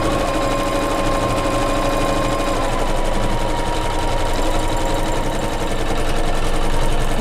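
A sewing machine stitches quilting along a pillow flange, a steady fast mechanical whir with a tight repeating needle rhythm, loud and close and running without pause.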